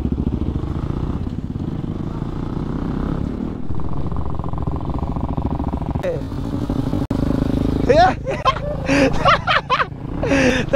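A KTM Duke 200 motorcycle engine drones steadily while riding, then turns rougher and choppier as wind and handling noise build, with no one speaking.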